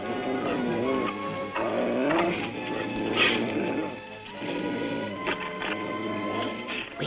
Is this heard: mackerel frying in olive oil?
no